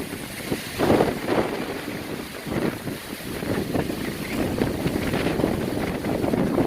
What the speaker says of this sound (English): Wind is kicking back up